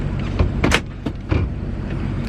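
A parked truck sits with a low idling rumble under a few sharp mechanical clunks and a brief whirring slide, most likely its door being pulled shut, close by with no talking.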